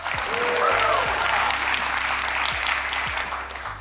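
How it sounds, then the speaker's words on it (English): A spontaneous round of applause from a conference audience fills the room, dense and steady clapping throughout, with a faint voice underneath. "there was this big spontaneous round of applause from the crowd"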